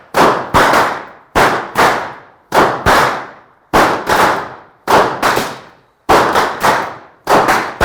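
Sharp whip cracks from a pokač cracking for Kurentovanje carnival, loud close reports in rapid pairs and bursts, each ending in a short decaying echo, with brief silences between groups.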